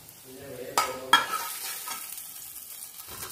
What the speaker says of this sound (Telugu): ఇది పోపు వేసేస్తున్నాను బెండకాయ కర్రీలోకి